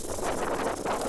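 Outdoor wind buffets the microphone during a guitar-building session, making a continuous rumbling rush with slight surges in strength. It is fairly loud and alone, with no voices.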